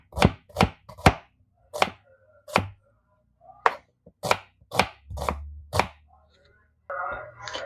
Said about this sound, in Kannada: ಇದನ್ನು ಚಿಕ್ಕದಾಗಿ ಕಟ್ ಮಾಡ್ಕೊಳ್ಳೋಣ.